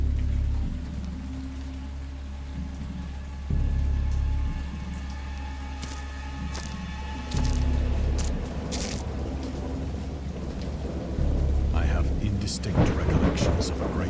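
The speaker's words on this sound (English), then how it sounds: "I heard pearls of thunder and other tones which nature utters only in her wildest moods" Thunderstorm in the game Dagon, with repeated deep rolling thunder rumbles over steady rain and scattered raindrop hits, the peals swelling at intervals and growing louder near the end.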